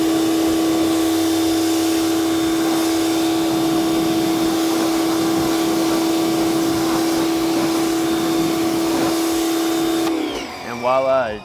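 A pressure washer rinses ceramic-coated car rims with a loud, steady hissing whine that holds evenly for about ten seconds before cutting off abruptly.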